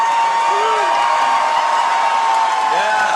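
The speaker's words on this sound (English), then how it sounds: "Listen to that crowd." Loud, dense roar of a rally crowd at a Trump town hall in Lancaster, Pennsylvania, cheering and whooping steadily throughout with a constant tone running underneath, ending abruptly.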